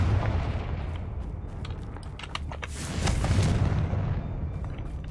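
Repeated booming fire-spell blasts cast in Hogwarts Legacy, a dense rumbling barrage of explosions with crackling bursts, loud and sustained, swelling again toward the end.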